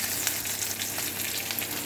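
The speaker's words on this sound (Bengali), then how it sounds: "একটু মাছ ভাজা ভাজা হবে রুটির সাথে খাওয়ার জন্য।" Fish fries in a pan with a steady, close crackling sizzle, dense little pops running evenly through the short stretch with no talking.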